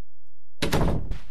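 A door slams shut in the horror video game Inside the Backrooms, a sudden loud thump breaking near silence, followed by a rattling tail and a second knock.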